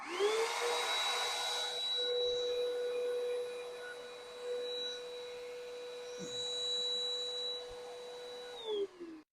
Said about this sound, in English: The ULV detaches fast and sprays a mist with a state-of-the-art 100-watt motor and negative ion generator that is shielded inside.